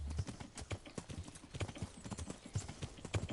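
Horse hooves gallop in Kingdom Come: Deliverance, a medieval role-playing game, with a steady rhythmic clip-clop of hoofbeats that stays close and fairly loud throughout.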